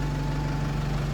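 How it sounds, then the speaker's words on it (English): A red bus with an E200 body sits idling, its engine giving a steady low hum with a faint whine, constant and close, with no break in the drone. "So is that a natural E200 engine, is it?"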